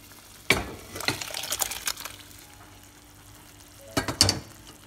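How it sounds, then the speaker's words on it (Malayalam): Cooked vegetables splash into boiling tamarind water for sambar, two brief wet plops and spatters a few seconds apart, close and fairly soft over a quiet simmer. "ഇപ്പോൾ അതൊന്ന് തിളക്കുകയാണ് ഇനി നമുക്കിതിലോട്ട് നമ്മുടെ വെജിറ്റബിൾസ് കുക്കാക്കി വെച്ചിരിക്കുന്ന വെജിറ്റബിൾസ് ആഡ് ചെയ്ത് കൊടുക്കാം"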